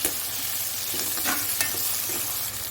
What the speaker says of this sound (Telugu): టమాటా కూడా వేస్తున్నానండి ఆనియన్స్ అయితే మగ్గిపోయిన